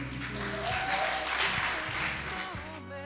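Wedding guests clapping at a Rwandese church wedding ceremony, a steady wash of applause from a crowd, with music and voices mixed in underneath.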